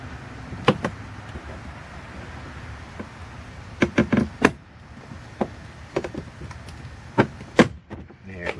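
Sharp cracks and snaps of plastic door panel clips popping loose on an Audi Q5 Quattro, several sudden bursts scattered among quieter scraping and handling noises, close by.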